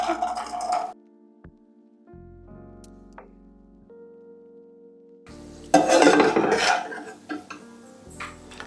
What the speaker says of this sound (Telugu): కిస్మిస్ కూడా అట్లాగే నేతిలో వేసుకుందామండి